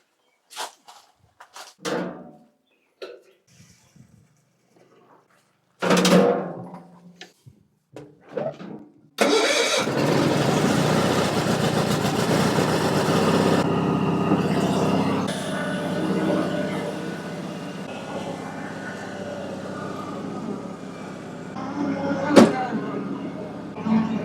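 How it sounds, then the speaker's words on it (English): After some sparse knocks and movement, a tractor engine starts and settles into a steady, loud rumbling idle that continues to the end. "This is one of the best running tractors in the fleet"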